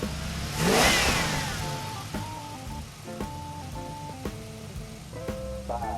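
A 1971 Plymouth Roadrunner engine revs up in one strong rising surge, then settles into a steady, close rumble with sharp tonal stabs over it.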